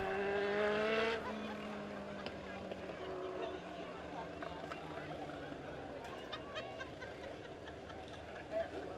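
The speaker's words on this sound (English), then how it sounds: "Cars starting to roll out." Legend race cars rolling out onto the Springfield Raceway track: a low, distant engine drone with a brief louder rev at the start, under a faint murmur of crowd babble.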